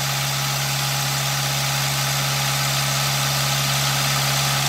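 A car engine idles after a head gasket repair done without dismantling, warm at about 90 degrees, giving a loud, close, steady hum with a constant low drone and even mechanical vibration, no voices over it.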